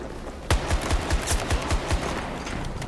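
Shotgun blasts in a video game battle, a quick series of about eight sharp shots at a steady rhythm after one opening blast, fairly loud and with no talking.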